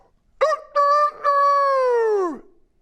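A person imitates a rooster crow, three loud voiced bursts: two short honking notes, then a long drawn-out call that falls away at the end, alone with no other talk.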